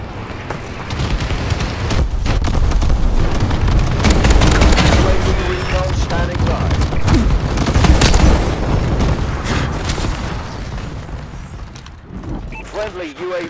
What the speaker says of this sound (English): Bombing run clearing away.